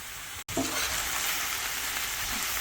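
Chicken pasta sauce with cheese, herbs, pepper, capsicum and onion cooks in a pan, a steady close sizzle and bubble broken by one short gap near the start.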